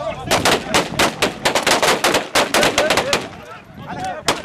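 Loud, close bursts of gunfire at a tribal mourning gathering on the middle Euphrates, rapid overlapping shots in quick succession with brief gaps and voices faintly underneath.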